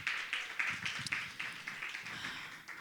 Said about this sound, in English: just a round of applause for what is happening here